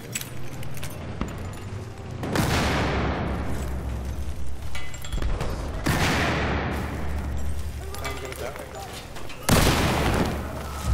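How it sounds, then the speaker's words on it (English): Battlefield 4 gunfire on the Siege of Shanghai map: dense, continuous rattling shots and booming blasts fill the clip, with loud bursts near the start, middle and end. "Who's shooting me?"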